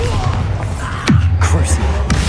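Bombarda blasting spell exploding in Hogwarts Legacy, a sharp whooshing cast followed by a deep booming blast and rumble within a loud combat mix.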